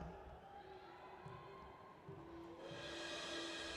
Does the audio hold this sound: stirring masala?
no